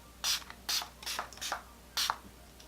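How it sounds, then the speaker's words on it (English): Several short hissing bursts of setting spray from a pump bottle onto a face, five quick sprays in an uneven rhythm, close and fairly quiet. "And we're just going to spray this all over the face."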